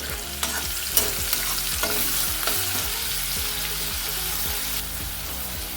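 Sliced onion, curry leaves and a pinch of asafoetida being stirred as they fry in a pan, with a constant sizzle under repeated spatula scrapes and clicks, and no talking.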